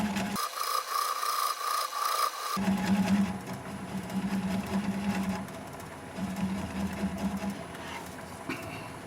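A wood lathe turns a root-and-rock bowl blank at slow speed, about 300 RPM, giving a steady low rumble with a humming drone and faint rubbing texture that carries on throughout.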